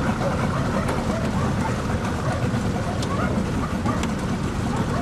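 An Elektron outboard boat motor drones steadily at close range on the waterways of Kherson, a continuous rough hum with faint ticks over it.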